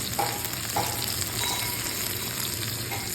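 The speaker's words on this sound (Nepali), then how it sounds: "मसला भुटिसकेको अवस्थामा छ। लसुन रातो रातो भइसकेको छ।" Chili and garlic spice paste for a lemon chili pickle fries in hot oil with a steady sizzle while it is stirred. Scraping touches come through close and continuous, and no one talks.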